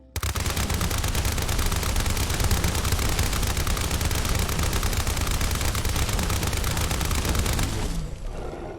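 An American 180 .22 submachine gun loaded with explosive rounds fires in a video game, one continuous loud rapid-fire burst of dense crackling shots lasting about eight seconds before cutting off abruptly.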